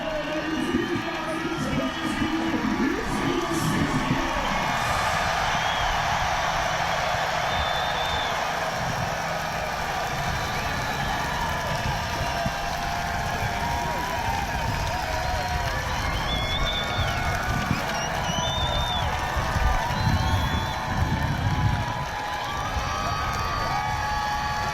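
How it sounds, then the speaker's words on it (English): A large crowd roars and cheers continuously at a Kansas basketball national championship celebration as players arrive with the trophy, with loud shouting voices and occasional whistles sustained throughout. "the crowd is going crazy"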